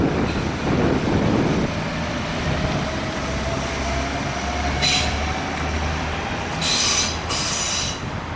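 A German S8 S-Bahn diesel multiple unit rolls past loudly and close, with a continuous rumbling roar, a high whining tone and intermittent wheel squeal.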